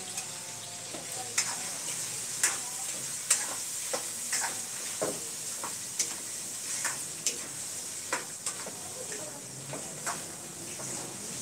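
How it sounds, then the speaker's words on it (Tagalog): Chicken sizzling and frying in a pan with ginger, garlic and onion, with a steady crackle and repeated sharp clicks of stirring or turning at irregular intervals. "Prito-prituhin as usual."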